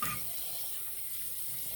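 Tap water runs steadily into a sink to rinse a vintage Astra 901 Czechoslovakian TTO safety razor, a close, continuous splashing hiss with no voices.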